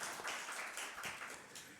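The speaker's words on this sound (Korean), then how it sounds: "우리 큰 박수로 다시 한번 문화부를 격려해 주세요" A church congregation applauding at an early-morning prayer service, steady clapping from many hands spread through the room, soft and somewhat distant, continuing throughout without pause.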